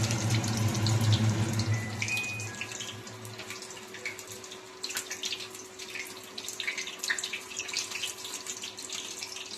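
Paneer pieces frying in hot oil make a steady, hissing sizzle that swells louder at first, then settles into a fainter crackling bubble with scattered pops, close and without talk.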